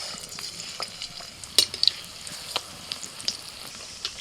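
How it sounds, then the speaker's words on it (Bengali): Batter-dipped eggplant slices fry in hot oil, a steady soft sizzle broken by sharp crackles and spits, close up and with no voices. "ব্যাটারে বেগুন ডুবিয়ে এবার গরম তেলে ছেড়ে দিচ্ছি।"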